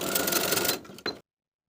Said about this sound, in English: Edge stitch those bottom edges of the belt loops in place.